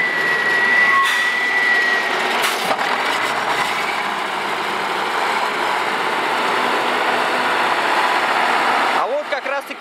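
A Kirovets K-4 tractor engine drones steadily at a haylage harvest, a broad continuous rumble passing at moderate distance with some wind noise, fading slightly toward the end.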